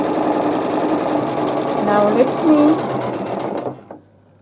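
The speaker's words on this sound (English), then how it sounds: "Now let me finish sewing the pairs together" A sewing machine runs steadily and close up, stitching pairs of 5-inch quilt squares together for a baby quilt, its whirring mixed with a few brief squeaks before it stops abruptly.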